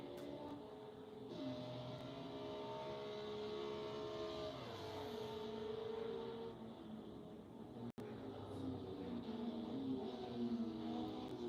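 A Renault LMP1 prototype race car runs through the carousel exit during practice at Road America, its engine note sustained and steady across the whole stretch, shifting pitch as it passes at moderate distance, with no talk over it.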